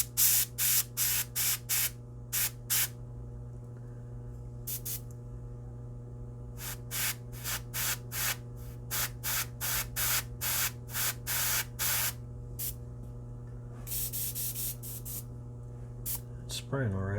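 Short bursts of pale blue spray paint hiss from a can or airbrush in quick, irregular clusters across a steady low electrical hum, close and distinct, with no speech.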